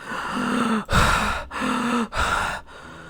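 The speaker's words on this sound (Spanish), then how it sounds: "Salí de la cama de un salto jadeando." Sharp, ragged gasps and heavy breaths follow one another in quick succession, a person jolting awake from a nightmare, close and breathless with no words.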